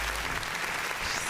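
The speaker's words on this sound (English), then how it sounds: "Drop the applause, please." A crowd claps in a brief, steady burst of applause, dense and fairly distant.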